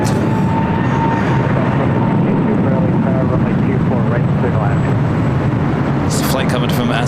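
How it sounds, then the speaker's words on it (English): JetBlue Airbus A320 taking off from runway 24 right at LAX: a loud, continuous jet engine roar held throughout at close range, with voices talking over it. "Take off 24 right. All right, got that JetBlue A320."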